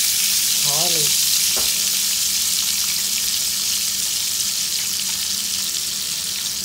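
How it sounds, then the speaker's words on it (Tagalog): Garlic is dropped into hot butter and oil, setting off a loud, steady frying sizzle with a brief clatter early on, continuing unbroken and close, no talking. "So dahil mainit na ang aming butter and oil, ilalagay na natin ang ating garlic."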